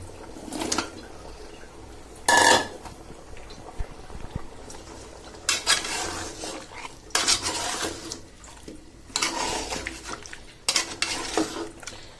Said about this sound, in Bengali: এবার সবজিগুলো সহ ভালোভাবে কষে যাক, তারপর ঝুল দিব।